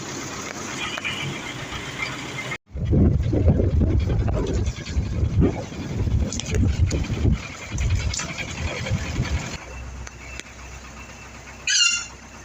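An MTZ tractor engine idles steadily while warming up after a cold start at about minus ten degrees, a loud, rough low-frequency rumble that runs for most of the stretch, with a brief quieter lull near the end.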